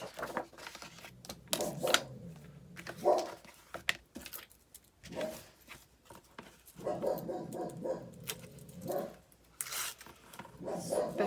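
Several dogs bark in bursts from another room of a house, fairly faint and intermittent, with scattered rubbing and handling noises between the barks.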